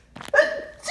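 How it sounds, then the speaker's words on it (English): A sudden sneeze from a person with seasonal allergies, sharp and close, with a short breathy lead-in and a voiced tail trailing off. "Oh, I gotta sneeze again."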